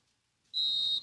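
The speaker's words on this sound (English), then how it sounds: "There's the whistle." A referee's whistle blows once, a short sharp blast ringing out across a girls' high school soccer match, fairly distant and with no talking over it.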